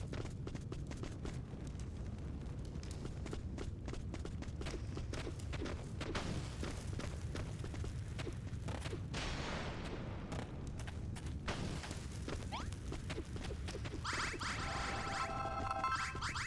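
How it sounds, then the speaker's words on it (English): Bombs go off in the video game Dragon Quest Builders 2, heard as a dense run of booms and crackling debris that fills the whole stretch, with a brighter burst of sparkling effects near the end. "More bombs."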